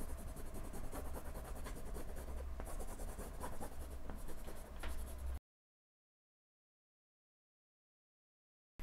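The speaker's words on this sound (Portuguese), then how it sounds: "E aí eu já posso apagar essas linhas" An eraser rubs pencil lines off a painting canvas in steady, scratchy strokes for about five seconds, then everything falls silent.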